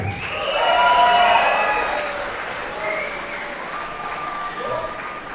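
A crowd at a grappling match claps and cheers loudly, swelling early then settling into steady applause with scattered shouts throughout.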